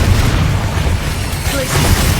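A Bombarda spell goes off in Hogwarts Legacy with a loud, dense boom that fills the whole short moment, rumbling heavily from start to finish.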